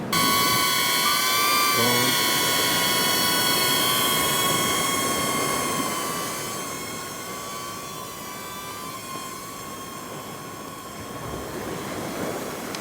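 A DJI Neo drone flying out over the sea, its steady whining buzz loud at first and then fading gradually as it moves away over open water, with wind noise underneath.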